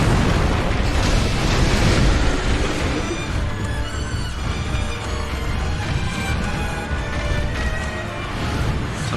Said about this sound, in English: you can even use some firecrackers to help you along